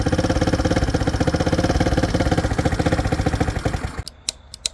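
A Motobravo Roma 150cc scooter engine runs with a rapid, even, pulsing idle close up, then cuts off abruptly, leaving a few sharp clicks and near silence.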